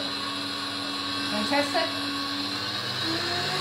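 A stand mixer whisks a sugar-free marshmallow mixture, a steady high electric motor whine running throughout, with a brief voice speaking over it midway.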